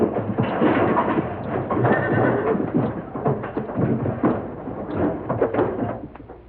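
Wild horses rounded up in the American West neigh and whinny repeatedly amid trampling hooves, a loud, busy herd sound with a muffled, band-limited quality like an older recording.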